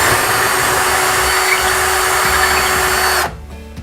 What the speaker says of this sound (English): I'm going to go to that hole that we've already marked and do a pre-drill for my anchor.